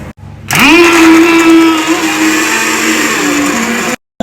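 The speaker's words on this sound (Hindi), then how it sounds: "तो मेरे भाइयों मिक्सी में हम इनको पीस लेते हैं" A kitchen mixer grinder whirs up loudly and pulverises soybeans for tikki, a steady high-pitched motor whine with rising pitch at start-up, running continuously for several seconds before cutting off abruptly.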